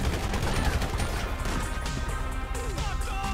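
Gunfire in GTA V, a dense, continuous barrage of shots and crashes throughout, loud and busy, with faint voices mixed underneath.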